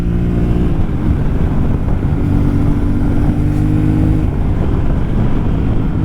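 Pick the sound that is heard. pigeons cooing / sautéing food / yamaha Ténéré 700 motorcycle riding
yamaha Ténéré 700 motorcycle riding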